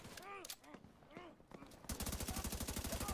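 Enemies are shot in The Division 2: scattered gunshots and chirpy effects give way to a loud, fast run of evenly spaced automatic fire, without talking.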